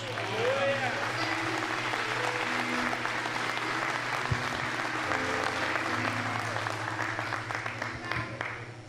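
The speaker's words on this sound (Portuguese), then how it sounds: "Aplauda o nome de Jesus." A church congregation claps loudly and continuously, with a voice carrying over the applause and a sustained low tone underneath.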